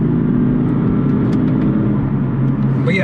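A BMW M4 drives along a road, its engine giving a steady, loud low rumble with a faint rising whine near the end and no talk over it.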